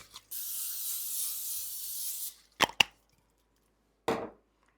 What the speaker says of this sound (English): we're just going to spray it.